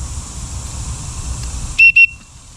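A survival whistle from a bushcraft rucksack kit gives two short, shrill, piercing blasts in quick succession near the end, loud and close over a low background hum, with no talking.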